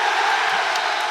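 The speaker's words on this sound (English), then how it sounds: "And a roar from the crowd." Basketball crowd at a Kent State versus Auburn game roars in a steady, loud, sustained wash of arena noise with scattered cheers.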